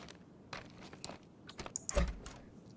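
Computer keyboard keys and a mouse click and clatter in quiet, irregular taps, with a few sharper clicks, while a video game is played at a desk.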